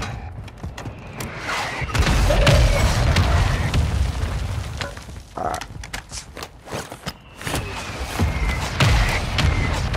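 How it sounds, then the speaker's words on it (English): Mortar strike explosions rumble through a Call of Duty: Modern Warfare II match as a series of heavy booms and thuds, some overlapping and spread across the clip, with no one talking. "Mortar strike on the way."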